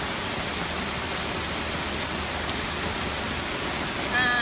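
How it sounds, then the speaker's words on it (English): Heavy rain pouring down on a flooded Mid-City street near Canal and Jeff Davis, a dense, loud, unbroken hiss filling the whole clip. "This is us out here in the pouring rain."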